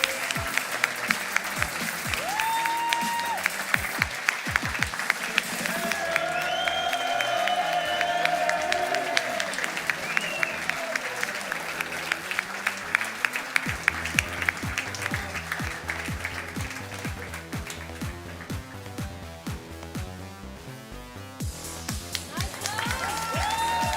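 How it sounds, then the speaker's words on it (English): An audience at an esports tournament for Summoners War claps steadily through a long stretch of applause, with crowd noise, a few cheers and music underneath, while a host speaks over it. "clap your hands."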